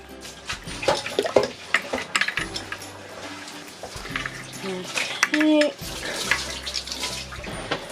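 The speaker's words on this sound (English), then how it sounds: "my poor husband's been stuck with the washing up" Dishes being washed up in a kitchen sink under a running tap, with steady splashing water and scattered clinks of crockery, while a voice talks over part of it.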